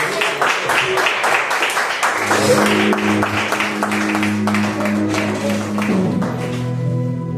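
Steady applause from a church congregation during a worship service runs throughout, with music and singing tones layered underneath.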